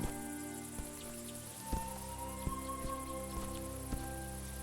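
Crickets chirp in a grassy evening scene in the video game A Juggler's Tale, a steady high insect drone layered over soft ambient music tones with faint rhythmic taps.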